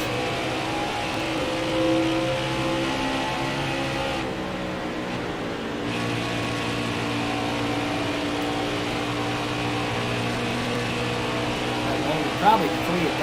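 Race car engines from NASCAR Heat 5 at Dover drone steadily throughout in a layered, sustained hum of several cars, with a brief dip midway; a voice talks over the engine noise.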